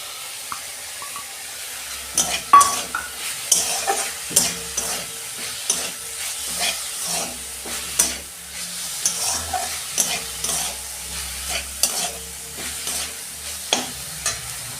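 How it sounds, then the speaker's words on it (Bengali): Red amaranth greens fry with poppy seeds in a pan, stirred by a spatula that scrapes and taps again and again over a steady close sizzle, with no talking. "শাক ভাজা হয়ে গেছে, আমি পোস্ত দিচ্ছি।"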